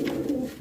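A pair of Kalanka pigeons gives one short, soft, throaty coo, close by and alone, lasting well under a second.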